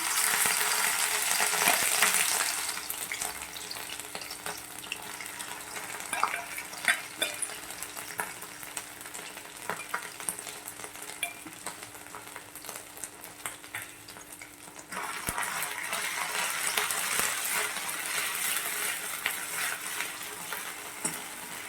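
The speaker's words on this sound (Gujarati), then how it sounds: "તો હવે આપણું તેલ ગરમ થઈ ગયું છે. તો આપણે તેમાં લસણ, આદુ, મરચાંની પેસ્ટ નાખી દઈશું." Garlic, ginger and chili paste sizzles and spits in hot oil for a Gujarati radish-greens dish, a loud crackling fry with stirring clinks, easing in the middle then rising again, no talking.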